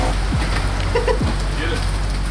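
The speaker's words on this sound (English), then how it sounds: "It's been raining pretty good for an hour here" Steady rain hisses down at a racetrack, a constant broadband wash with low rumbling underneath and faint brief sounds on top.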